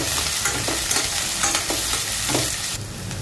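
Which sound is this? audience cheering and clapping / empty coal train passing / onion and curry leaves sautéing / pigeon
onion and curry leaves sautéing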